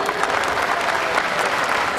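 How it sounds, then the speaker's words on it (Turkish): Steady, dense applause from an audience at a stage event following a football tournament final, loud and continuous with no talk over it. "Güçlü alkışlar."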